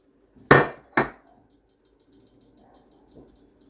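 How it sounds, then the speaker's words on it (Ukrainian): Two sharp glassy clinks close together, a lid set loosely down on a jar of cherry compote twice, then quiet faint clatter. "закриваємо кришками, не закручуємо, а просто накриваємо їх"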